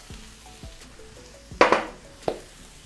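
Lentils seasoned with black pepper and salt being stirred in a pan, with a few soft scraping strokes that build to two louder, brief scrapes near the end.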